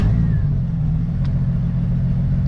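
A Jeep Cherokee XJ engine idles steadily up close, a continuous low rumble with no pauses and no voices.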